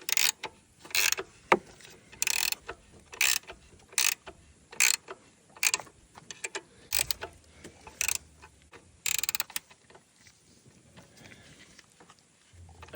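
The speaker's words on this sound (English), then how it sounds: "So I'm just gonna tighten this bolt back up," A wrench tightening a bolt during AC compressor replacement on a 2016 Hyundai Accent, heard as a close, repeated series of ratcheting metallic clicks in short regular bursts, then quieter handling noise, with no talking.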